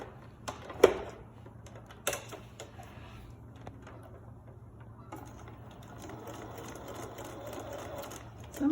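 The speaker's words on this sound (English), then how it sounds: "Sometimes it's hard to get your machine to sew over the thickness of the pleats" Sewing machine stitching through the thick pleats of a fabric face mask, a faint steady mechanical whir with scattered clicks and knocks, rising slightly toward the end.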